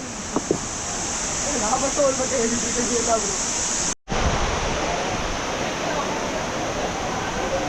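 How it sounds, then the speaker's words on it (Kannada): Aagaya Gangai waterfall in the Kolli Hills drops from a height with a steady, loud, broadband roar that fills the whole clip, with faint voices early on and a brief dropout near the middle. "ಬಂತು ನೋಡಿ ಫಾಲ್ಸ್. ಸೌಂಡ್ ಕೇಳ್ತಾ ಇದೆ ಇಲ್ಲಿಂದನೇ."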